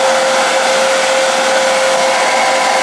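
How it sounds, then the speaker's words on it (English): A hair dryer blows steadily and loudly up close, drying tint spray on a straight wig's lace, with a constant whooshing roar and a faint whine running through it. "I'm gonna blow dry this spray on here."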